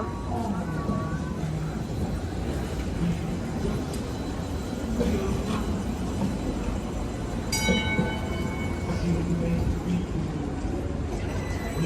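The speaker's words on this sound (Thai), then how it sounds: "เป็นรถรางแบบสองชั้นนะจะบนชั้นล่างด้วย" A double-decker tram rolls past on a Los Angeles street, a steady rumbling rail-vehicle noise with clanks and a brief high squeal midway, while people talk nearby.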